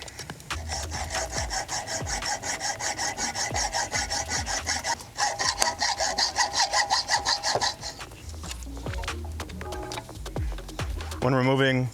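A saw cuts through a plumbing pipe fitting on a motor midsection in quick, even back-and-forth rasping strokes. The strokes pause briefly about halfway through and resume, and a short squeak sounds at the very end.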